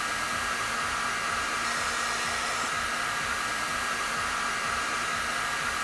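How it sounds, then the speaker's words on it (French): A hot air gun runs at full power, blowing on solder to melt it onto wire joints, a loud, steady, unbroken whoosh and whine close to the microphone. "Je mets le décapeur à fond et je dirige le jet d'air chaud vers le haut pour ne rien cramer du tout."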